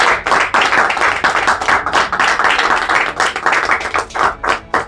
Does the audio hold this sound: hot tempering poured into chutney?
no